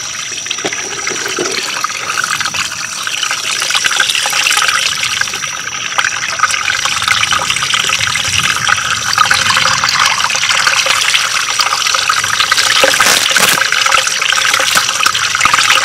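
Steady running water pours and trickles from a pond with no drain, leaking out toward a nearby creek bank; a continuous, fairly loud wash of flowing water with no pause throughout.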